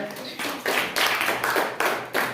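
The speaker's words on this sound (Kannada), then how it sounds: "ಜೋರಾದ ಚಪ್ಪಾಳೆ" A handful of people clap for a quiz contestant in bursts of rapid hand claps that rise and pause several times, fairly loud and close, with no talk over them.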